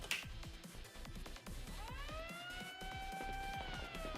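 A wailing siren in the video game Blue Archive rises and sustains in steady sweeping tones over a busy, rhythmic game soundtrack, fairly faint and in the background.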